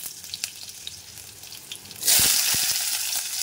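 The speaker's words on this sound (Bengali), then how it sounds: "প্রথমে আমি আলুটা হালকাভাবে ভেজে নেব" Potatoes dropped into hot oil tempered with panch phoron and dried chillies, a quiet crackle giving way to a loud, steady sizzle as they hit the pan.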